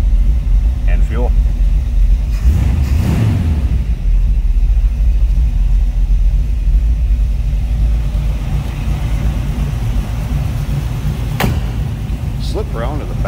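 A 1934 Ford Model 40 coupe engine idling shortly after a cold start gives a steady, close, low rumble that holds even throughout, with a few brief faint higher noises over it.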